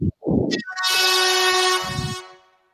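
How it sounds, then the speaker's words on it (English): A loud, sustained air horn blares for about a second and a half close by, preceded by a couple of short thumps. "I have an air horn on deck ready to go"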